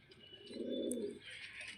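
A Lalzeeria pigeon of an old-generation Giribaz line gives a soft, low rolling coo up close, swelling then fading, with light chirps in the background.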